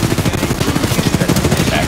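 Gunfire in the video game Apex Legends, a rapid burst of automatic shots rattling in quick rhythm, loud and close, with a voice faintly under it.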